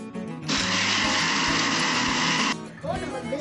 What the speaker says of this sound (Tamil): பாதி பாக்கெட் நம்ம பிஸ்கட்ஸை மிக்ஸி ஜாரில் போட்டு அரைச்சிடணும்